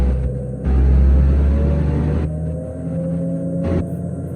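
A Trackmobile Titan railcar mover's engine drones heavily as it drives, its pitch climbing and then dropping sharply at each gear change, with two distinct upshifts heard loud and close.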